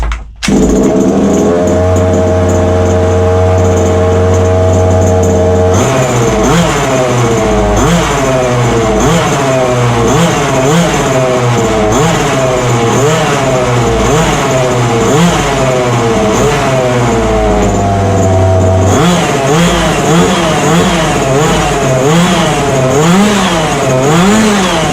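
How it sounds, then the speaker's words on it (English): A small engine of a Ferrari F1 RC car runs loud and close, buzzing steadily and then revving up and down repeatedly in rhythmic bursts, with no talking. "just the sound of the engine"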